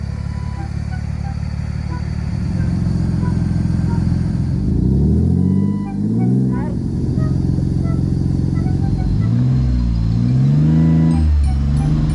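Off-road car with a front wheel dug into the ground, engine droning loudly and revving up and down in rising and falling surges as it struggles to pull free. Someone talks over the engine.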